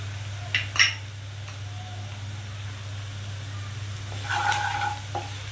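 Onions frying in a pan for a coriander chicken dish, a soft steady sizzle under low hum with a few sharp clinks and scrapes of a utensil against the pan.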